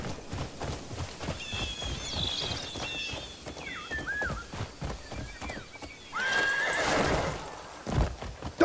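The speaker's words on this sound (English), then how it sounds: "Double jump horsey!" A horse in the video game Crimson Desert whinnies clearly several times over a steady clip-clop of galloping hooves, with a long, loud neigh near the end and no speech.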